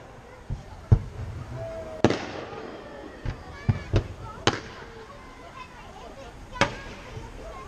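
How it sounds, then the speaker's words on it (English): Simulated battleship gunfire booms out during a naval battle display at Bridlington, a string of sharp outdoor bangs at irregular intervals, some louder and some more distant, over a murmuring background. "As the 11-inch guns of the battleship open up on the convoy"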